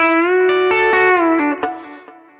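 Electric guitar through effects, a short phrase of ringing notes with a muted, percussive ghost-note pluck near the end, then a decaying tail with distortion and reverb, no voices.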